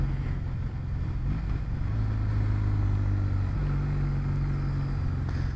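A 2019 Kawasaki W800 Cafe motorcycle cruises in fifth gear along back streets in the Blue Mountains, its engine a steady, close, low drone with small shifts in pitch throughout.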